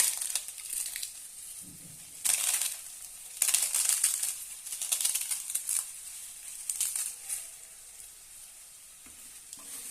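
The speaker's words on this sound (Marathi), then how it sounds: "आता आपण हे जे पापड भाजलेले आहेत ते आपण याच्यामध्ये चुरा करून टाकूया" Roasted papad crushed into pieces in a pan for onion papad chutney, giving crisp crackling and crunching bursts up close over a constant sizzling frying hiss.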